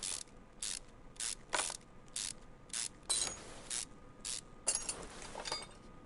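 Rapid bursts of ratchet clicking from loosening a bolt on a V8 engine in Car Mechanic Simulator 2021, about a dozen short evenly spaced strokes, close and fairly quiet with no talking.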